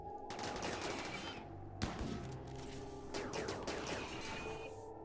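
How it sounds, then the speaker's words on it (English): Sustained gunfire aimed at a Scyther in Rimworld, a dense rattle of rapid shots over steady background game sound, with no talking. "Fire at Scyther, please."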